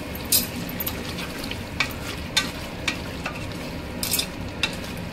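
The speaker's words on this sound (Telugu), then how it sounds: "వెల్లుల్లి పేస్ట్ యాడ్ చేసుకోవాలండి, ఒక స్పూన్. బాగా మిక్స్ చేసుకోండి." Tomato masala with garlic paste stirred in a frying pan: a continuous hiss of sizzling with sharp, irregular scrapes and clinks of a spoon against metal, close up, no voices.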